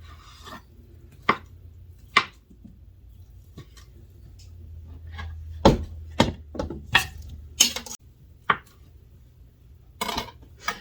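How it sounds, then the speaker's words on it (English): A knife chops down the length of a quartered potato on a cutting board, making sharp close thuds at uneven intervals that come closer together toward the end, with no talk over them. "So I just quarter the potato and then chop down its length."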